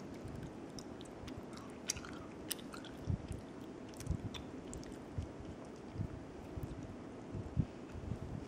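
Close chewing and biting of a candy said to taste like a Twizzler and a cookie, with soft wet squishy crunches recurring at an irregular rhythm against faint background noise.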